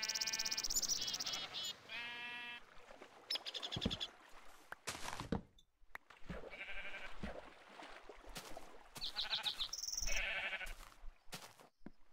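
Sheep in the Minecraft Tekkit modpack bleat repeatedly in short wavering calls, several overlapping and spaced irregularly, fairly quiet and close, with no talk.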